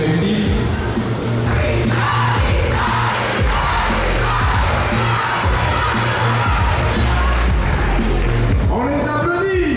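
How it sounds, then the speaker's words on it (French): Crowd at a sports event cheering, shouting and clapping for under-16 players, a loud, dense roar of voices with some yells throughout. "On les applaudit."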